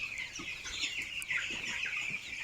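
Sixteen-day-old broiler chickens in a grower house, a dense flock of soft peeping and clucking calls layered together, steady and moderately close.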